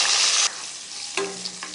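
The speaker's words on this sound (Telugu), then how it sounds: "పచ్చిమిర్చి వేయించుకొని పక్కన పెట్టుకోవాలి" Green chillies frying in a pan for brinjal chutney: a loud hiss of oil at first that cuts off abruptly, then quieter sizzling with a clatter of stirring, close by and without talk.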